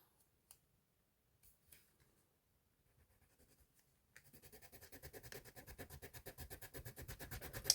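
Wax crayon scribbled hard on black paper, a few faint isolated strokes at first, then a close, rapid, rhythmic scratching that grows steadily louder.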